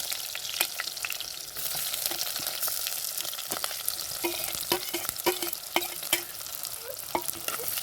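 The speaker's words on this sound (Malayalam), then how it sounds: "എണ്ണ നന്നായി ചൂടായി അതിലേക്ക് കുറച്ച് ഉലുവ ആഡ് ചെയ്ത് കൊടുക്കുന്നുണ്ട്" Fenugreek seeds and garlic fry in hot oil for a Kerala-style fish curry, giving a steady, close sizzle with scattered sharp spatters and spoon-scraping clicks throughout.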